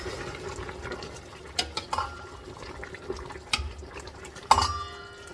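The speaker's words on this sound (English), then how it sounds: "Stir this around." Turnip greens with smoked turkey stirred in a pot of liquid, giving soft watery sloshes with a few sharper clinks of a spoon against the pot, fairly quiet and close, with no talking.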